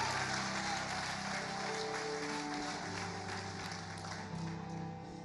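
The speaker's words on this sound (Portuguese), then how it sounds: "pode aplaudir o Senhor por isso, querido." A church congregation gives a steady, dense round of applause during a pastor's sermon. The clapping keeps going without a break, with sustained musical tones underneath.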